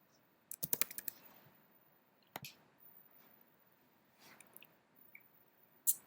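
Light typing on a computer keyboard, a few scattered quiet clicks and short bursts of keystrokes, faint and close with long quiet gaps between them.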